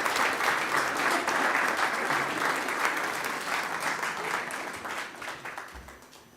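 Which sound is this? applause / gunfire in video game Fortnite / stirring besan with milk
applause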